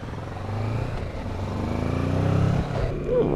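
A 2021 Kawasaki Versys 650 motorcycle pulls away close by, its engine note rising steadily as it accelerates, with a brief clatter near the end.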